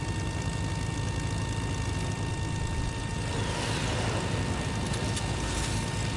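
A video game airplane drones loudly and steadily, its engine a constant roar with a slight shift in tone midway, with no talk over it.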